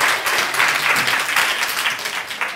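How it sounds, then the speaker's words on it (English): An audience claps loudly and steadily for a couple of seconds, a dense wash of hands filling the room after a call for a big round of applause at a live event. "Come on and give yourselves a great big round of applause"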